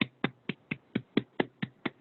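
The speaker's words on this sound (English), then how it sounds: "We're all clapping." Rhythmic clapping or snapping on a video call, about nine evenly spaced sharp slaps in two seconds, close and fairly quiet.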